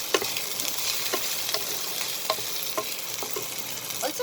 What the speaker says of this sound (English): So now I am going to add the chopped green chilies